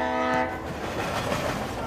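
A large, fast train passes close by, its horn blaring in steady tones at the start before giving way to a loud, broad rumble and rattle of the cars rolling past.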